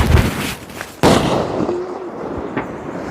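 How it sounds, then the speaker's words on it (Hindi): Firecrackers bursting at a Diwali celebration in the hills: a loud sharp blast lands about a second in, over a steady crackling and hissing burn, and a smaller pop follows near the end. "तो बम फोड़ने का ये अच्छा तरीका है"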